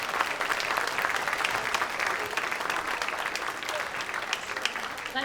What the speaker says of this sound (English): Let's give another round of applause to Michael.